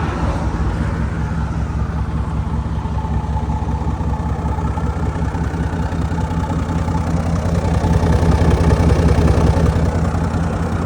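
A Jeep Grand Cherokee with a 5.7 V8 idles with a loud, deep, steady exhaust rumble close by. It keeps a fast, even pulse and swells slightly near the end, with no voices over it.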